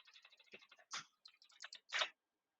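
A password is typed on a computer keyboard in quick, soft key clicks with a short pause midway and a firmer final keystroke, close and quiet.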